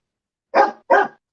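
A dog gives two loud, close barks in quick succession, with silence before and after and nothing else audible.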